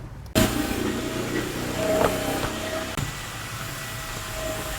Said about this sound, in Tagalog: Ang kailangan natin, syempre, itong blower.